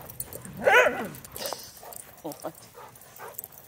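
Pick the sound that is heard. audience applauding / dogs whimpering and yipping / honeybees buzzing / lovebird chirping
dogs whimpering and yipping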